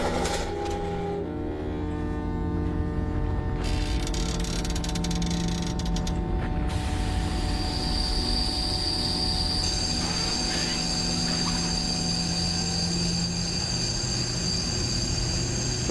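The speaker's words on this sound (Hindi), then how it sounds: "यही था ना इमरजेंसी हैंडल। यस, अब ट्रेन रोक दूंगा मैं।" A passenger train comes to a halt after the emergency handle is pulled, with continuous mechanical rumbling, creaks and ratcheting clanks, and shrill squealing brakes rising in the second half, heard close from inside the carriage.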